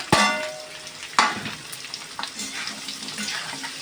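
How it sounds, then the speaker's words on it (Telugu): Onions frying with eggs in a pan, opening with two sharp clanks of a utensil, then a moderate, uneven sizzle with stirring scrapes, near and without talk. "ఆనియన్స్ కూడా కాస్త ఫ్రై అవ్వాలి"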